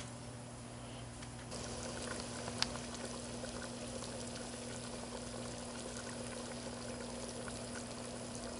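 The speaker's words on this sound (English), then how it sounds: "Let that come right back up to a boil." A pot of shrimp gumbo, with about two pints of liquid just added, comes back toward a boil during Hurricane Irma, giving a faint, steady bubbling and gurgle over a constant background hum.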